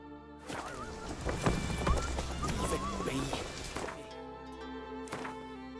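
Roach, Geralt's horse in The Witcher 3 video game, gallops with rapid clip-clopping hooves and whinnies while game dialogue and music play underneath.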